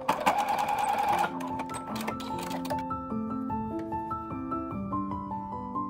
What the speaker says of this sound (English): Start sewing 2 inch away from one end and stop sewing right at the point a stitch starts.